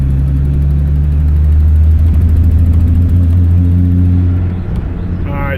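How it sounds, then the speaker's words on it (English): A loud, close 1995 Ford Thunderbird SC engine lugging in third gear without boost drones at low revs with uneven, missing, surging pulses, then the note dips and falters near the end. "Missing, bucking, surging."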